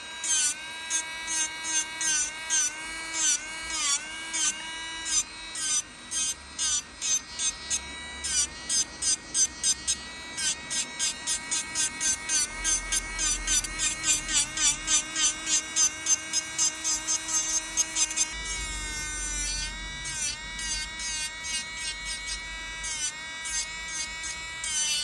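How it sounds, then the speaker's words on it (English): An electric nail drill buzzes close by while removing builder gel from nails, its whine pulsing in quick repeated bursts as pressure comes and goes, then settling into a steadier hum. "When using an e-file, apply very light pressure."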